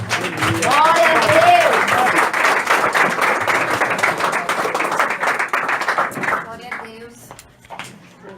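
A church congregation claps loudly and steadily in praise, with voices rising over the clapping before it thins out and fades near the end.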